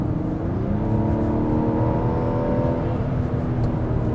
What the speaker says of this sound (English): This engine is also just worth listening to.